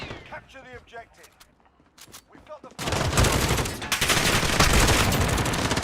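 Dense, sustained video game gunfire bursts in loudly after a few seconds of someone talking, then keeps going as a continuous roar of rapid shots.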